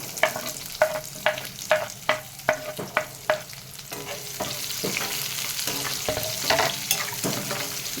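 Onions frying in a pan for village-style ridge gourd chutney, stirred with a run of sharp, evenly spaced scraping strokes over a steady close sizzle that carries on once the stirring eases.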